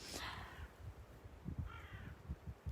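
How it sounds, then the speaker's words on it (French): Crows cawing overhead outdoors, a series of harsh caws repeating at irregular intervals, moderately loud and near, with no talking. "Il y a plein d'oiseaux là-haut."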